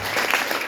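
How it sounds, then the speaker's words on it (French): Audience applauding at a live comedy show, a short burst of dense, loud clapping filling the room. "vous pouvez applaudir ce casting"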